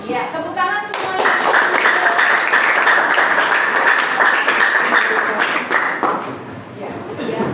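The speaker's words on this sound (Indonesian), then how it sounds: "Ya, tepuk tangan semuanya." A classroom of students claps hands together in a lesson, a dense burst of applause that swells within a second, holds steady for several seconds, then thins out toward the end.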